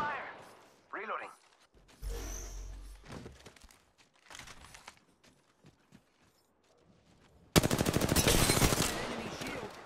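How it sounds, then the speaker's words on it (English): Gunfire in Apex Legends: scattered shots and thuds with voices speaking early on, then a loud, sustained burst of rapid automatic fire close up near the end. "Taking fire!"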